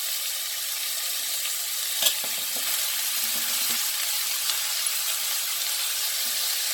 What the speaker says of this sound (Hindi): हल्का सा ही हमें फ्राई करना है।